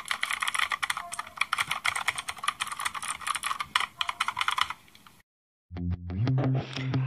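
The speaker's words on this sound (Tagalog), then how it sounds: "And dito na yung preview ng keyboard." Rapid clattery typing on a Rakk Kimat XT.LE mechanical computer keyboard, dense loud keystrokes for about five seconds, then a short silence and a burst of other sound at the end.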